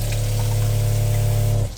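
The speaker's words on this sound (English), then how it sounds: "Pump's ready to go." A camper van's electric water pump hums steadily at close range with water running into a sink, then cuts off near the end.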